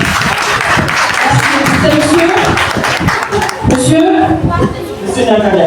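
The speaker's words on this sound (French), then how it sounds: "Est-ce qu'on peut l'applaudir, s'il vous plaît?" Audience applause at a masterclass, loud sustained clapping from a crowd with voices talking over it throughout.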